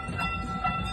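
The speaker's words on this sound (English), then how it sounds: "Please remain seated and inside the train." Amusement park train ride at a boardwalk rumbling along its track, a steady low mechanical drone with faint higher tones, brief and moderately quiet, with no voices over it.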